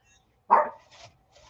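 A single sharp dog bark rings out at close range in an indoor craft space, followed by a couple of fainter, short yips trailing after it.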